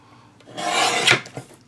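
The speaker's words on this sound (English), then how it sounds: "I'm going to cut off 1/8 of an inch from the bottom and 1/8 of an inch from the side" A single short rasping stroke of a blade cutting through card stock for a Christmas card, close and crisp, followed by a couple of faint ticks.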